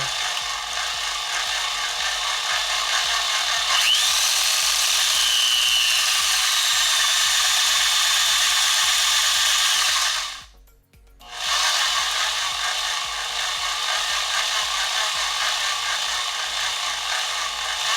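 A 2 in 1 speed-adjustable electric tufting gun running continuously at close range, a rapid buzzing, rasping mechanical whir with small shifts as its speed is adjusted, stopping for about a second midway before starting again.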